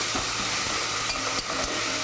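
Ginger garlic paste sizzles in a frying pan as it is stirred, a dense close frying hiss with soft scraping strokes from the spoon, no talking.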